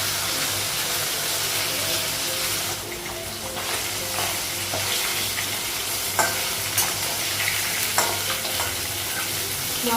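Fish fries in a pan with a steady, continuous sizzle and occasional stirring clinks, close and fairly loud, with no talking.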